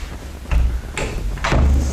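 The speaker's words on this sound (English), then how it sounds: "let's shut the door" An indoor door swings shut in a classroom setting, with a few faint knocks and a soft closing thud, followed by a low rumbling bump, close by and without speech.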